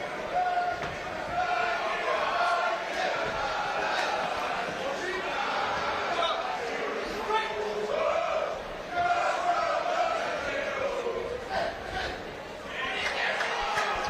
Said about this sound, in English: Some good chants there from the crowd for Paswell.